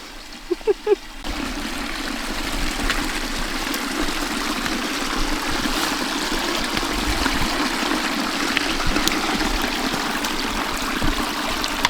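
A mountain stream in Lapland rushes steadily and close by, a continuous broad wash of flowing water after a few brief knocks at the start.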